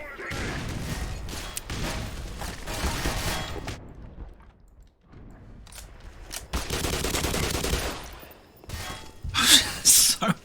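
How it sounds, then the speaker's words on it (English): Frag grenade explosions and gunfire in the video game Black Mesa, a chaotic run of bursts and rattling shots that drop out briefly mid-way, then return loud with a sharp blast near the end, a voice talking in between. "So many explosions."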